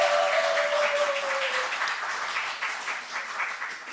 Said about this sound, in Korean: 최고령자에 대한 예우로 박수 한번 쳐드립시다